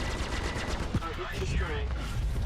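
Ship cannons on an F7C Hornet fighter in Star Citizen firing in a rapid burst, loud and dense, with a brief voice underneath.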